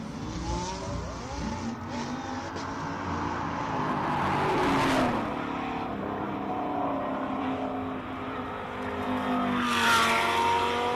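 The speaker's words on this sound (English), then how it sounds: "Beautiful pink Lamborghini that we have here." A pink Lamborghini Huracan racing at the Simola hillclimb, its engine revving and climbing through gear changes, loud and close as it passes.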